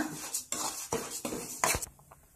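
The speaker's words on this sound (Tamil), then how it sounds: "நல்லா கிண்டி விட்டுட்டே இருக்கணும், இல்லைன்னா கொஞ்சம் கருகிரும்" Idli powder ingredients dry-roasting in a pan are stirred with a utensil, giving a quiet run of scraping, rustling strokes and light clinks at an irregular rhythm, close up with no talking.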